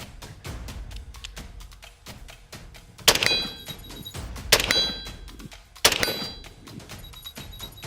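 AR-15 rifle shots in a mid-range shooting drill, three sharp loud reports roughly one and a half seconds apart, each with a bright metallic ring, over a steady low outdoor rumble.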